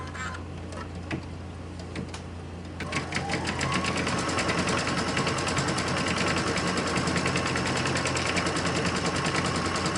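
Embroidery machine stitching a quilt, a steady rapid mechanical rattle of needle strokes that starts after a few seconds of quieter whirring and then runs continuously and close, with no talking.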